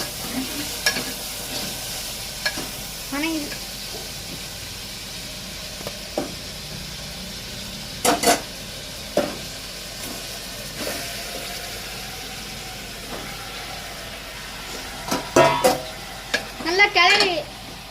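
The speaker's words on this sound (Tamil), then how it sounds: "நல்லா சிக்கனை கிளறி விட்டு" Chicken and tomatoes frying in a pan for chicken kulambu make a continuous sizzle, with intermittent scraping stirs and clattering spoon strokes that grow busier toward the end.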